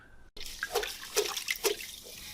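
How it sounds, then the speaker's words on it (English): Water drips and splashes as a wet tiling sponge is squeezed out by hand over a kitchen tile job, a few close, soft trickles and drops after a brief click. "You want to make sure you get as much water out of it as you can."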